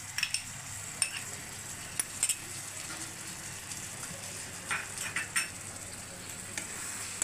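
Whisked yogurt poured into mutton keema sizzles and crackles softly in the pan, with intermittent spoon stirs and light clinks against the vessel, fairly quiet and close.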